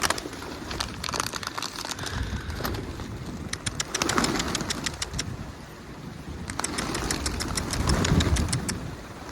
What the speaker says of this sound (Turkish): Kuşlar bayağı bir ürkek davranıyor.